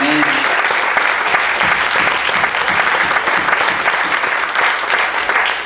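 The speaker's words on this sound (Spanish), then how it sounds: "denle ese aplauso al Señor" Congregation at a church service applauding steadily, a dense, loud clatter of many hands that continues without a break from start to finish.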